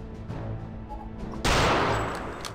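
A sniper rifle fired in the video game Castle Wolfenstein, with a few muffled shots followed by a sudden loud blast that sustains into a hissy, noisy tail.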